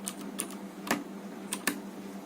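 Keys pressed on the keypad of an 8085 microprocessor trainer kit, several faint, sharp clicks spaced irregularly against a quiet room hum.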